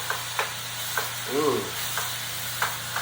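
Sauce with a little Italian sausage tipped into a hot pan, a brief soft splatter and stir near the middle amid a steady low sizzle, with a few faint clicks and a constant low hum.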